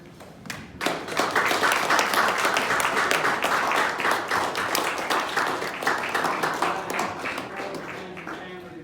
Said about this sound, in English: just accept our applause for the support you've given these friends and family members